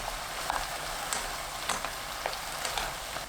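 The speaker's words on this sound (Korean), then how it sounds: "파 넣고 30초 볶습니다." Green onion stir-fried with mixed king oyster, oyster and button mushrooms in unsalted butter over high heat, a soft steady sizzle with light crackling pops and occasional stirring, fairly quiet and free of talk.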